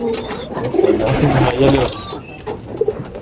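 Pigeons cooing at a pigeon seller's stall in Brebes, Central Java, with soft repeated throaty coos close by, mixed with people chatting.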